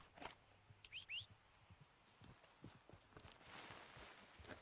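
Faint, sparse hoof clops of a horse in Red Dead Redemption 2 sound out over quiet game ambience, with a few soft bird chirps and a light rustling wash near the end, and no talking.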